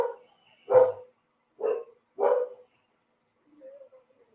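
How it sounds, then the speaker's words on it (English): A dog barks three times in a steady rhythm at moderate distance, followed by a faint whimper, with nobody talking. "There our boy go. He barked."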